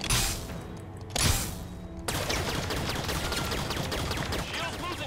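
Heavy weapons fire at the Kraken's shield in Halo 5: Guardians, starting with two sharp blasts and then becoming a continuous loud barrage of rapid shots.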